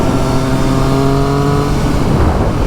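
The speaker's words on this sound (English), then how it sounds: "But what a noise. What a note." A KTM 765RS motorcycle fitted with an Akrapovic full exhaust system, decat and Spark headers roars loud and close at steady revs, its deep, throaty engine note holding before fading slightly at the end.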